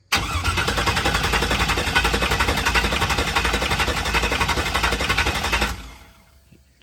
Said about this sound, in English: just hold it on the starter for a minute